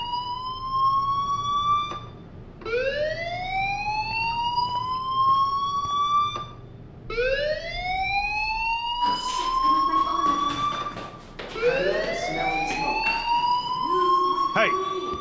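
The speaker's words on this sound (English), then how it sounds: "Do you hear that fire alarm?" A school fire alarm in the Life is Strange video game wails in rising electronic sweeps, four or five loud repeating cycles with brief gaps, under low background noise.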